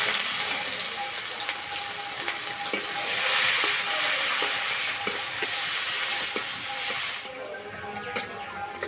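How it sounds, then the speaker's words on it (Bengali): Chopped onions fry in oil that already fried pointed gourd, with five-spice seeds added, making a loud, steady hiss with light scraping of a spatula throughout. The sizzle drops off abruptly near the end. "এবার দেবো পেঁয়াজ কুচি,"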